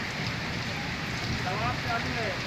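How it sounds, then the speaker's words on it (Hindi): Heavy rain falls at the Haram in Makkah, a steady dense wash of drops on hard ground with crowd murmur and faint voices mixed underneath throughout. "हरम में बारिश हो रही है माशाल्लाह माशाल्लाह।"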